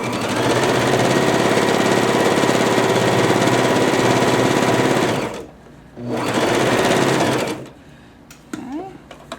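A Babylock Jazz sewing machine stitches muslin in a long, loud, steady whir for about five seconds, pauses briefly, then runs again for a shorter burst, followed by light handling noises close by.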